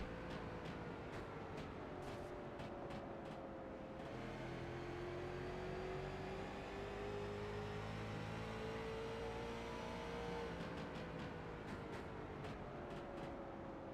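Onboard a late model race car lapping a 0.6 mile oval track: a loud, steady engine drone that rises and falls in pitch through the corners, with rapid mechanical clatter, heard alone for the whole stretch.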